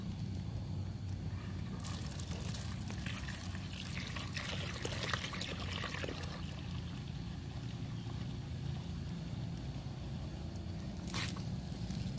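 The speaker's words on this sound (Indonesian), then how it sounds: "kita campurkan larutan pupuk tadi atau pestisida" Fertilizer or pesticide solution poured into a half-full sprayer tank outdoors, a steady watery trickle and splash running continuously over a constant background hum, with a brief louder gush partway through.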